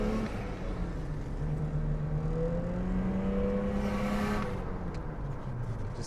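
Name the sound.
BMW E39 engine revving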